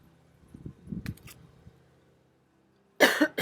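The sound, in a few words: cough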